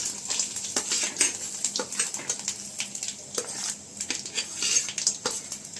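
Fennel seeds and peanuts being roasted in a pan, heard as rapid metallic clinks and scrapes of a spoon against the pan with a faint sizzle underneath, close and busy.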